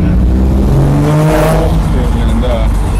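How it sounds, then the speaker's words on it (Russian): A Ferrari California's engine roars and revs on a street in Paris, a loud, steady growl that rises and falls, with people talking over it. "Ну, звук, конечно, у нее, и вообще работа двигателя, конечно, потрясающая."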